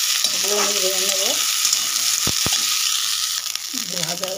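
Beans and carrots stir-fry in a hot pan for a Bengali vegetable dal, a loud steady sizzle with a couple of sharp utensil scrapes and faint tonal sounds in the background.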